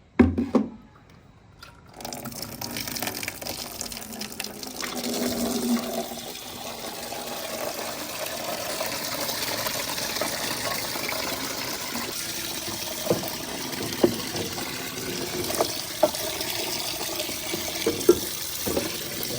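Water running and splashing in a village kitchen as jugs and glasses are set in to soak overnight, a steady flowing gush with occasional clinks after an initial knock, no clear talk.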